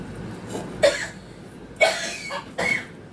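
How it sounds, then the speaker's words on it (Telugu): Three separate coughs, dry and close, spaced about a second apart against a quiet room. "దగ్గు అస్సలు తగ్గట్లేదు ఫ్రెండ్స్"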